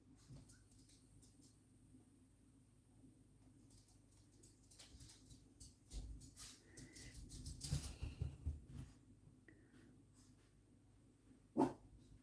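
A dog lets out a soft, huffing scoff of a bark: mostly faint shuffling and quiet background cooing, then one short, sharper puff near the end.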